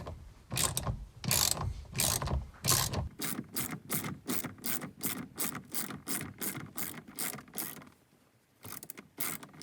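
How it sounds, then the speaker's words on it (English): Ratchet wrench loosening the center XZN bolt of an Audi A5 steering wheel, a rapid run of loud, close, evenly spaced clicks that continues steadily for several seconds, pausing briefly near the end before resuming. "the last thing that remains is unscrewing the center screw"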